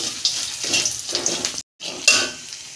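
Ginger and spices sauté in a pan for a mixed-vegetable curry, a close hissing sizzle with spoon scrapes and light clinks, briefly cutting out before resuming louder.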